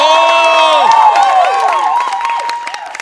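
A studio audience at a Marathi comedy show claps and cheers loudly, with whooping, gliding vocal shouts and dense clapping that fades slightly toward the end.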